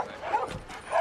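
Dogs barking at a kennel, a few sharp, close barks and yips in quick succession within a single second.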